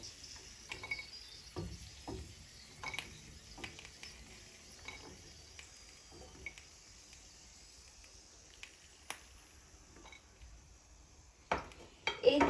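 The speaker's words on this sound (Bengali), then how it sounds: "আমার বাদামগুলো ভাজা হয়ে গেছে আমি এখন বাদামগুলো উঠায় ফেলবো" Fried cashews lifted out of a pan of hot oil with a metal utensil: scattered light clinks and scrapes against the pan, faint and irregular, with a few sharper knocks near the end.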